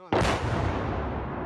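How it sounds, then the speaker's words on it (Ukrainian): An enemy artillery shell explodes nearby during the occupation of Bucha, Ukraine: one sudden loud blast followed by a heavy, sustained roar and rumble that fades only slightly. "Навколо вибухають ворожі снаряди."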